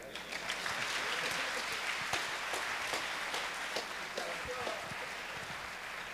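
Church audience at a pastor's anniversary concert applauds steadily, a dense wash of clapping filling the space with a few sharper claps and some voices mixed in.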